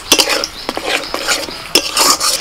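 A spoon stirs spice masala with sour yogurt in a pan over low heat, giving repeated close scraping and clinking strokes against the metal over a soft sizzle, with no talking.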